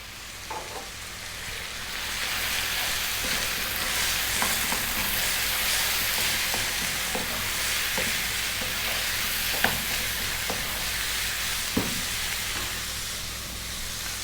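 Turmeric, chili, cumin and coriander sizzling and frying in a pan for lamb curry, a continuous loud hiss with occasional stirring clicks and scrapes, close up with no talking.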